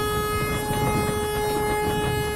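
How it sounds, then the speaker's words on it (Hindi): Train horn in an Indian train simulator game, a steady sustained blare with stacked tones holding for the whole stretch, loud and unbroken with no talk over it. "ज़बरदस्त व्यू के साथ हॉर्न लगाते हुए लेके जाएंगे"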